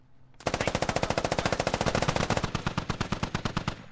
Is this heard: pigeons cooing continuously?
no